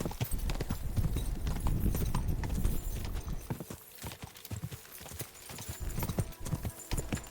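Horse hooves thudding in Kingdom Come: Deliverance 2, a loud, busy clip-clop of a ridden horse with sharp repeated impacts, steady throughout.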